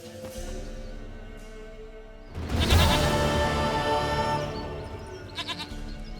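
A goat bleats loudly and close in The Witcher 3, in one sustained bleat lasting about two seconds amid quieter ambient game sound.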